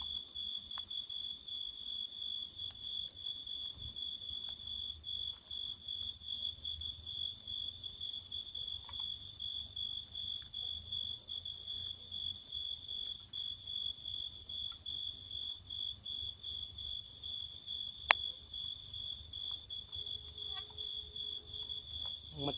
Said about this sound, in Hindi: मच्छरों की और जानवरों की आवाज़ें आ रही हैं।